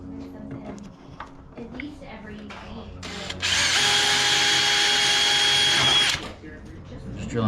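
Power drill boring pilot holes into a Vanderhall frame during an upgrade, a steady high whine lasting about three seconds after quieter handling noise, close and loud, with people talking nearby.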